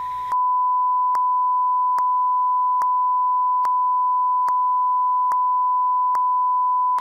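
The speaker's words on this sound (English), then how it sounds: "And beep, beep, beep!" Censor bleep tones cutting over a comedian's cursing: a steady single-pitch tone with eight short, evenly spaced clicks or breaks across it, loud and alone with no other sound.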